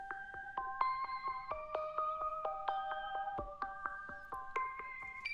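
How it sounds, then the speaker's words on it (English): A bell arpeggio melody programmed in FL Studio with a Gross Beat effect, bright bell notes stepping through chords in a rhythmic, chopped pattern, each note struck crisply and fading quickly, clear and alone. "In this case I did a bell arp"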